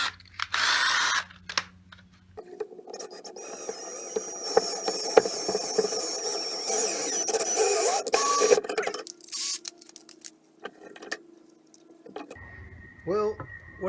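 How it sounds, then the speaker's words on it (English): Threads being hand-tapped into sheet metal for air deflectors on a Gravely walk-behind tractor, heard as close, steady scraping and grinding of the tap that runs for several seconds, with clicks and mechanical rattling at either end. "What we got to do now is try to tap some threads in this sheet metal."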